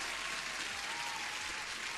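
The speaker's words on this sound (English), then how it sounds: "You deserve an applause as a new subscriber." An applause sound effect, a faint, even wash of clapping hands that stays steady for a couple of seconds with no voices.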